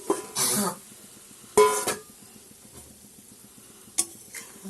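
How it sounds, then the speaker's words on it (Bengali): Pabda fish and pre-fried eggplant drop into a pot of boiling curry, giving two short bursts of splashing sizzle and stirring followed by softer bubbling and a brief utensil clink, with no talking. "মাছ আর বেগুন এটা এখন আমি দিয়ে দিলাম।"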